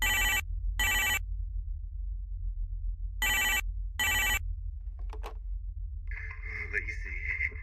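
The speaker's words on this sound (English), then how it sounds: "The phone rings once again." Telephone in a horror flash game rings in two paired double bursts, loud and bright over a steady low hum, followed by scattered electronic noise and a faint tone.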